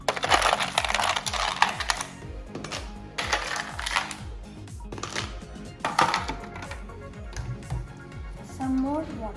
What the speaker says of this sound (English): some ice cubes కొంచెం ఎక్కువ వేసుకోండి